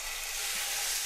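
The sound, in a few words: beef searing in hot frying pan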